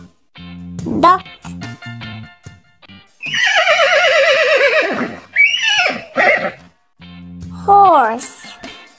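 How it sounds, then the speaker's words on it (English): A horse gives a loud, shaky whinny, followed by a shorter neigh, with brief speaking voices before and after. "Horse."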